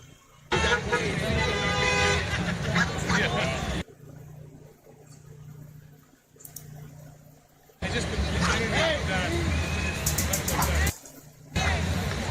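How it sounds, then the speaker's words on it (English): Many car horns blare in long, loud overlapping blasts, stopping for a few quieter seconds before sounding again amid crowd noise. "That scared me, the sound of so many cars honking"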